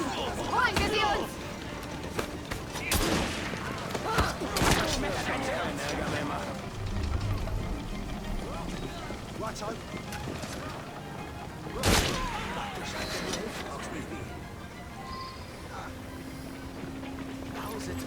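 Scattered gunshots and clattering action sounds from a street fight in the game Assassin's Creed Syndicate, with a few sharp loud bangs under ongoing talk and footsteps.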